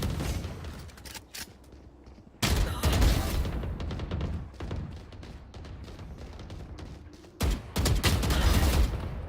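Heavy bursts of automatic gunfire in the video game Valorant, loud clustered shots breaking out in sudden volleys with short quieter gaps between them, with no talking.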